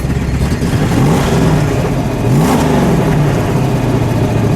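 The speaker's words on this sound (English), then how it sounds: "Give it one good rev." A 1969 Plymouth Road Runner 426 Hemi V8 idles close by, then revs up twice in quick surges, its deep rumble rising and falling in pitch.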